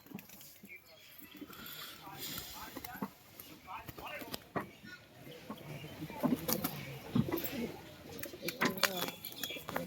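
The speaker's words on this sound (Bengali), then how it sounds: "চলুন পায়রাগুলো সব দেখাবো আপনাদেরকে" Pigeons coo softly amid a busy outdoor scene, with bursts of chirping and scattered noises; voices speak intermittently alongside the birds.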